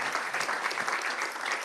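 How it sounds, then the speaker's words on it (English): Audience at a health assembly side event gives a dense, continuous round of applause, steady and full throughout the short stretch with no pauses. "Please give Raj a big round of applause."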